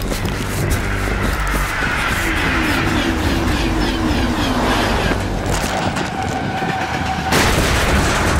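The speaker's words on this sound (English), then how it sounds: "I'm on a train, in a tunnel, in a very high speed" A high-speed train roars through a tunnel in the video game Battlefield 3, a loud continuous rumbling wash of rail noise and clatter with shifting tones and a sudden change near the end.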